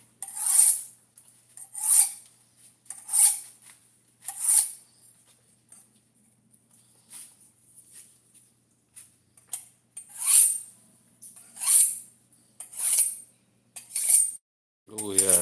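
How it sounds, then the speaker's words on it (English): A kitchen knife drawn across the unglazed bottom of a ceramic mug, a series of crisp rasping strokes at a steady pace with short pauses between them, close and clear with no talking. "I'm gonna go ahead and give it a quick sharpen."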